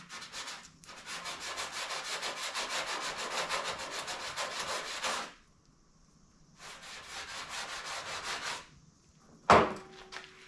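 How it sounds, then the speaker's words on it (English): A brush scrubs a 1971 Torino trunk lid in two long, steady bursts of close, coarse rubbing with a pause between them. A short sharp knock follows near the end. "It tends to scrub it real good."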